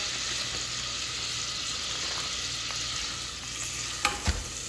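A brown sugar mixture is stirred on low heat, with a steady soft frying hiss throughout and two brief clicks of a utensil near the end.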